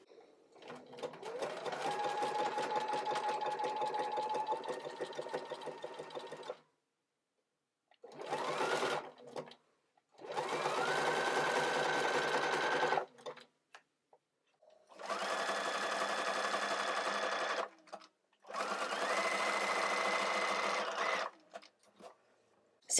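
Sewing machine running in several long bursts, zigzag stitching along joined trim pieces guided by an Edgestitch foot, with short pauses between the steady whirring runs.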